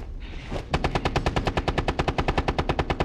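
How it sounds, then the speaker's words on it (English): Rapid automatic gunfire from above in Rainbow Six Siege, a fast steady stream of loud close shots after a brief lead-in, continuing without pause. "Someone's shooting from up there."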